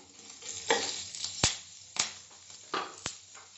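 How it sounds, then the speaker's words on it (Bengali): Asafoetida and slit green chili stirred in hot oil, a soft sizzle under several distinct metal spoon scrapes and clanks against the pan, close and irregular. "এবার এর মধ্যে আমি হিংটা দিলাম, কাঁচা লঙ্কা চেরাটা দিয়ে দিলাম, মিশিয়ে দিচ্ছি ভালো করে তেলের সঙ্গে।"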